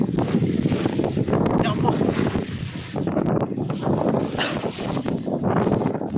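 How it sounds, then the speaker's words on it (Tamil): Strong wind batters a fishing boat out at sea in a continuous loud, blustery roar that buffets the microphone throughout, with no clear voices. "சரியான காத்து"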